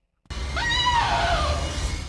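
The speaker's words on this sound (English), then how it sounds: "I don't like the way you're screaming at me like that." A scream in the horror video game Endless Nightmare, a loud rising and falling shriek that starts abruptly after a short silence and holds steady for nearly two seconds over a low rumble.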